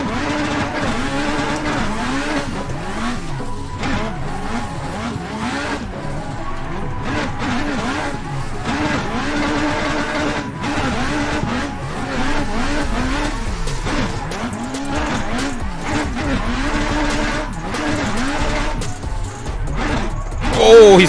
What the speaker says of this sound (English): Blackie 46 drifts pretty good